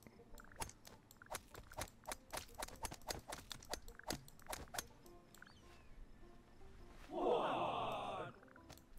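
Horse hooves clip-clopping in the video game What the Golf?, a quick series of sharp, close taps in an uneven trotting rhythm, followed by a short louder whinny-like burst near the end.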